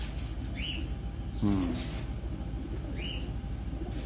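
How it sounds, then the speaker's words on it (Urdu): A pigeon coos softly on a rooftop, with two short call phrases against a steady background hum and a brief low rumble between them. "یہ بھی آج صاحب کا شرمیلا کا کبوتر"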